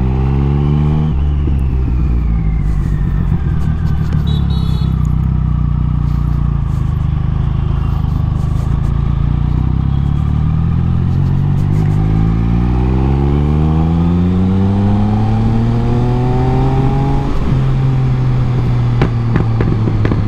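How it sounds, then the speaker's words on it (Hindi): A Triumph Speed Triple motorcycle being ridden, its engine droning steadily and close, rising and falling through gear changes. Exhaust pops and crackles from backfiring are not clearly separable in the continuous engine roar. "भाई पटाखे सुन रहे हो, पट पट पट पट पट पट, ओए होए होए, क्या बैक फायर ले रही है यार।"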